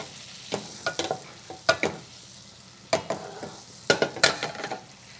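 Butter browning in a pan with wine, sizzling with intermittent spattering bursts and scraping stirs, irregular and close by.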